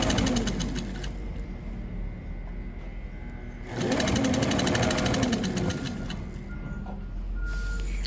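A sewing machine stitches a fabric scrunchie with a steady, continuous mechanical whir that is close and fairly loud, briefly easing off midway and then resuming at full pace.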